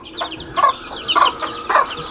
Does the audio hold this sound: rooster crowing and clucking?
yes